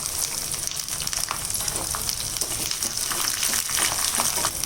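Green chillies, ginger and dal fry in oil in a pan with a dense, continuous close sizzle and occasional stirring scrapes, with no talking.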